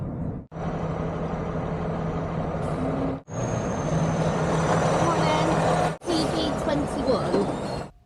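Several trucks idle and creep forward in a queue at the NEC, delivering Malone farm machinery for LAMMA in snowy conditions; a steady close engine drone fills the clip, broken by brief cuts.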